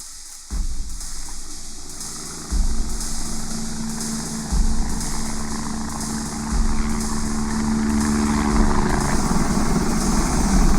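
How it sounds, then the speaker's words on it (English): Helicopter flying overhead while spraying a forest plantation of poplar, maple and birch, a continuous rotor drone with a steady low throb that swells a few times as it passes, with no voices. "along comes the helicopters"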